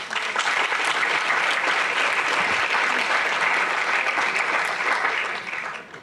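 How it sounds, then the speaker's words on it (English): Sustained audience applause at an inaugural ceremony for a democracy and human rights institute, steady and dense crowd clapping filling the room for about six seconds before tapering off at the end. "I think he deserves your applause."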